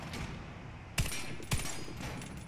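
Two distinct, punchy shots from an M249 Para Gold machine gun in Warface, about half a second apart, ringing over a steady game background with faint earlier reports.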